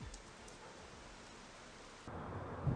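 Thunderstorm with steady rain hissing on surfaces and low, rumbling thunder swelling near the end, moderately faint and continuous with no talk.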